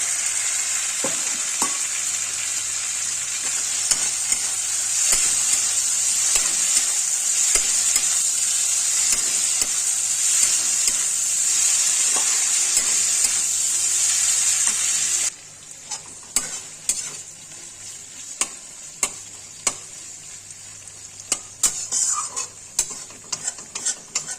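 Fried potatoes sizzle loudly in hot oil with spices while a utensil scrapes and stirs; midway the sizzling drops off, leaving quieter intermittent clinks and stirring.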